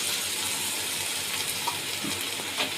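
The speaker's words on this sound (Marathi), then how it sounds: "अर्धा ग्लासच आपण पाणी टाकणार आहोत त्याच्यामध्ये" Half a glass of water is poured into a pan of cooking cluster beans (gawar) with green chillies and coriander, making a steady hissing, splashing wash with faint sizzle, fairly quiet and continuous.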